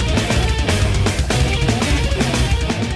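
Mathcore band music, dense and loud throughout, with pounding drums, sharp percussive hits and distorted guitars.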